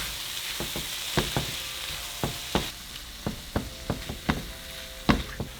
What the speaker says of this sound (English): we're going to throw in our shrimp. And we're going to cook our shrimp for 2 minutes.